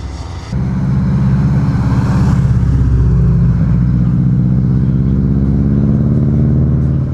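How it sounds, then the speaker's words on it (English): A white Honda S2000 sports car passes close and loud, its engine note rising and swelling as it drives by, with a steady mechanical drone throughout. "Honda S2000 in white."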